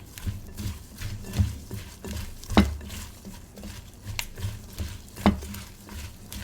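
A seasoned cucumber salad with sesame oil and sesame seeds is being mixed close up, with rhythmic wet squelching and tossing sounds repeating every second or so and a few sharper clicks against the bowl.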